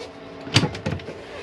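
Overhead locker doors in a Chausson Flash 14 motorhome are lifted open, giving a couple of quick close-up clunks and latch clicks over a quiet interior background.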